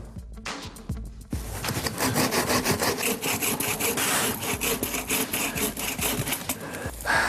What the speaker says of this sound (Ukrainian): У нас є пилка. Зараз будемо пилити,